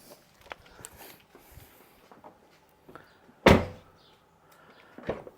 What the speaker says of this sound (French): On va fermer la porte.